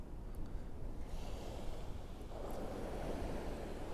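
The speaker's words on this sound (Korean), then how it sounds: "오늘 자장가는 파도소리 완전 명당 섭렵을 했습니다" Ocean waves wash steadily onto a shore beside a parked Damas microvan in Gangwon-do, a continuous broad rushing surf with wind noise, building slightly louder in the second half, no voices.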